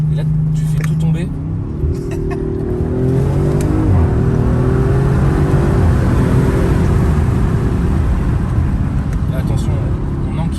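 A 600-horsepower car accelerates hard, its engine note climbing steadily in pitch through a long pull, loud and close from inside, with occasional talk over it.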